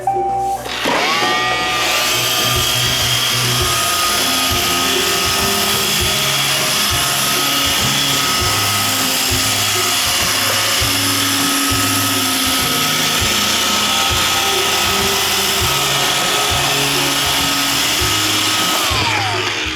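An iRobot Roomba 530 robot vacuum runs continuously for about twenty seconds, a loud close whirring motor hum with a rhythmic pulsing undertone, starting up and winding down at the ends.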